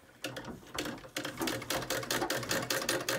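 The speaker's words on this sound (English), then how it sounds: "So she just fixed that leather belt and put the belt on it so that the treadle at the bottom will work." An antique 1880 treadle sewing machine with a leather drive belt runs close by, its rapid rhythmic needle clatter starting slowly and settling into a fast, even mechanical chatter, no talking.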